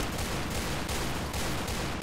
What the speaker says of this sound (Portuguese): É uma Python normal. O tiro dela tá normal.